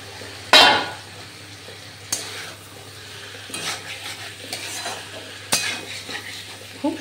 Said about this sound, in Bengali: সঙ্গে মশলার সঙ্গে মাছটা একটু কষে নিই